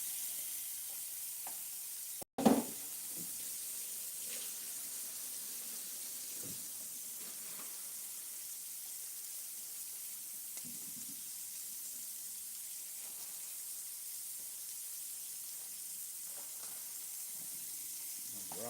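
Shrimp sizzle and fry steadily in a hot pan for tomato pasta, giving a continuous hiss with a loud clatter early on as the shrimp go in, then occasional stirring noises and faint talking in the background.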